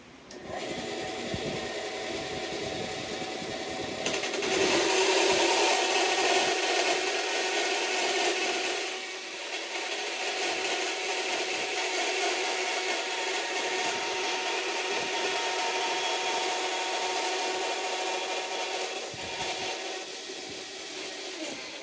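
Steady, continuous grinding or cutting as excess aluminum is trimmed from a handmade bass guitar nut, a sustained loud power-tool whine with slight swells in intensity, heard alone without talk.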